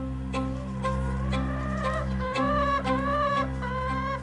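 Several hens cluck in repeated, close, fairly loud bursts as an unfamiliar new hen is introduced to the flock, with no voices.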